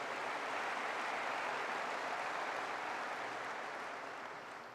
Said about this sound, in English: Let's give a nice round of applause to the organizers.